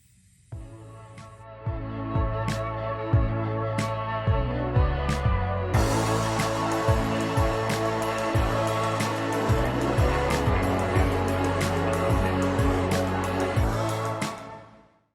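A JACO ProFlow digital tire inflator pumps air into a tire with a loud, steady motor drone broken by rapid rhythmic pulses, running nearly the whole time and then cutting off at the end.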